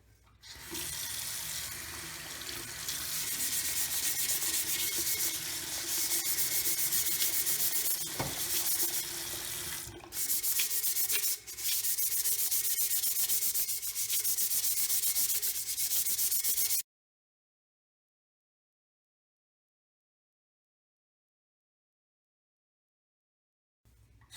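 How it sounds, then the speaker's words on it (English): Steady, rough abrasive rubbing of sandpaper on a stainless steel tumbler continues close by for a long stretch with a gritty, hissing texture, then stops abruptly into silence. "Right now it looks really shiny, but I'll show you how I sand it."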